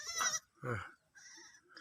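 Young goats bleating on a small Thai goat farm, three separate calls with brief pauses between them, fairly close and clear with no talking over them.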